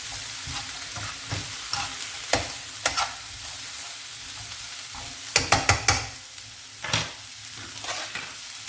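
Mushrooms frying in a hot pan on high heat, a continuous close sizzle punctuated by spatula scrapes and taps, with a quick flurry of clatters partway through.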